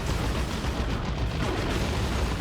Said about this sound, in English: the shuriken wiped out by an all-reliable grenade barrage from the Khatrin